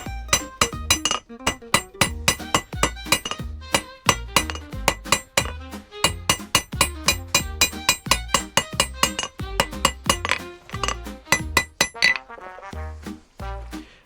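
A hammer strikes hot steel on an anvil while thinning a forged slot punch, a long run of sharp ringing clinks in a fast, steady rhythm, each blow bright and metallic, with brief pauses between groups.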